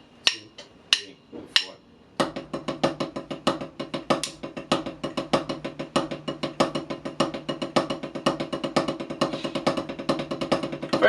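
Single paradiddle rudiment on a drum kit with accents on the downbeat: a few loose opening strokes, then a steady, even stream of close, crisp strokes with regular louder accents throughout.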